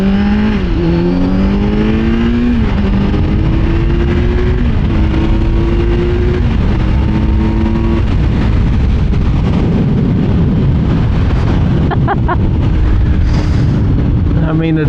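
A 2024 Kawasaki Z900 motorcycle accelerating hard on an open highway, its loud engine climbing in pitch and dropping with each upshift through the gears, heard continuously from the rider's position with heavy wind rush.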